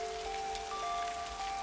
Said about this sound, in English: we rarely get this kind of heavy rain over here